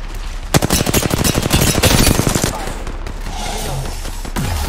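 Loud, close burst of automatic gunfire in Apex Legends, a rapid string of shots for about two seconds before tapering into quieter scattered sounds.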